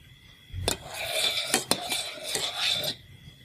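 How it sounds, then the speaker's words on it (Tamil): Metal spoon stirring coffee into milk in a pan or cup, with scraping swirls and a few sharp clinks against the sides, close and clear with no talking. "நாங்களுக்கு இதில் கோப்பி கலக்க போகிறோம்."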